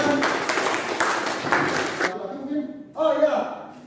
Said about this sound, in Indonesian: Ya, bagus sekali, berikan tepuk tangan.